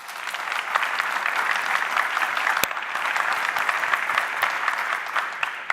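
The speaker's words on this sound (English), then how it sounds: "that does deserve a huge round of applause" Steady applause from an audience at a palliative care award ceremony, dense even clapping heard from a distance and sustained for several seconds, with no talking over it.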